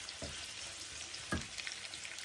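Onions and curry leaves sautéing in a pan give off a soft, steady sizzle, with two brief louder scrapes of stirring.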